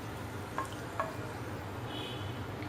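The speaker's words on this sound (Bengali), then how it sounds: "দারচিনি, একটা তেজপাতা ফালি করে দিয়ে দিয়েছি। এখন এগুলো একটু ভেজে নেব।" Cinnamon, cardamom and a sliced bay leaf frying in oil give a soft, steady sizzle close by, with a couple of faint clinks and no talking.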